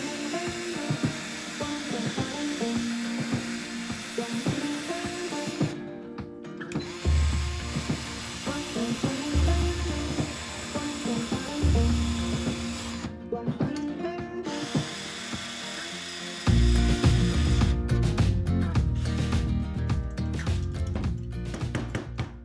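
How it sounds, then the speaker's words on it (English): A power drill whirs with a wire brush scraping rust off a 1965 Coleman camp stove, running in bursts with short pauses, close and fairly loud. "I'm just wire brushing it with the drill, just to get as much of the rust off"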